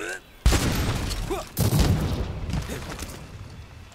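Light Bowgun Clutch Claw mounting attack in the Monster Hunter video game: two loud booming blasts about a second apart, each trailing into rumbling, crackling noise.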